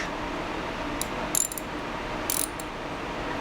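A socket wrench tightens a cast iron part on a 6-inch metal vise, making two short bursts of quick ratcheting clicks over a quiet background hiss.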